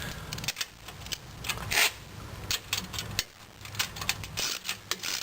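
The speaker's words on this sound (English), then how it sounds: "I'm going to use a set of wrenches and tighten it up." Wrenches tightening the latch bolt on a Trike-N-Bike TB1-2LB hitch bike rack, giving close metallic clicks, ratcheting and small clanks in an uneven cluster.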